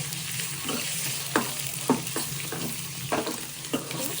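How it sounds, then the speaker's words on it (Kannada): Eggs frying in a pan sizzle steadily, with a few light clicks and scrapes as they are stirred or turned, close and clear without talking. "ಎಗ್ನ ನೀಟಾಗಿ ಫ್ರೈ ಮಾಡಬೇಕು"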